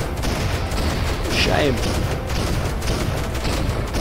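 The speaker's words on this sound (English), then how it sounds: "He likes exploding. Look how many explosions he's got." Dense, continuous rumbling blasts from a stream of explosions in the video game Octogeddon fill the clip. The booms are loud and constant, and one short spoken word cuts in.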